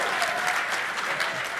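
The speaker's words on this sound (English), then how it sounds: "only the married people are applauding us." Audience at an awards presentation in a hotel ballroom applauding, a short dense burst of clapping from a sizable crowd, steady and fairly loud.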